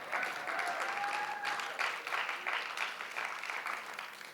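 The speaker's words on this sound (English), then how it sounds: "You can clap for that." Audience at a high school Writers Week event in an auditorium applauding, a sustained wash of steady clapping from many hands at moderate distance, with no speech over it.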